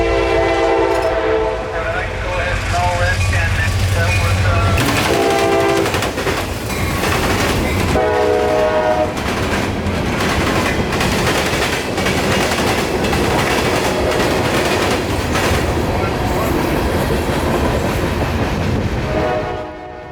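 A local freight train passes through Plant City, Florida, its horn blaring in long tones over heavy rumbling and rhythmic clacking of railcars, loud and close throughout.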